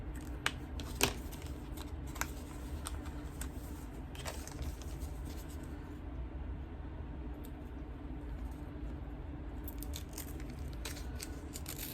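Foundation paper being torn away from the stitch lines of a Sparklers quilt block, a quiet run of soft crackling rips and small sharp ticks, some louder snaps early on, with no talking.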